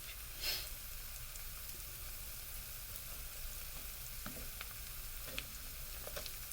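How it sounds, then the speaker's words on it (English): Yellow squash sizzles steadily in a hot pan, a constant crackling hiss with occasional pops and faint stirring. "You hear that good stuff frying in there?"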